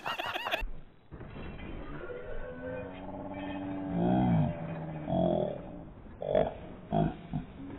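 A horse in Red Dead Online whinnies and struggles while drowning in water, a loud neigh rising over a busy game soundscape with splashy bursts near the end.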